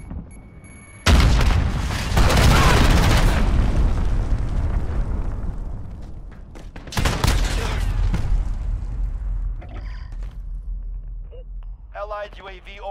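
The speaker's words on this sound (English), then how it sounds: "Enemy Allied cruise missile launched." Cruise missile strike in Call of Duty Modern Warfare multiplayer: a huge booming explosion with a long rumbling tail, followed by a second blast and fading debris, while a game announcer voice talks over it.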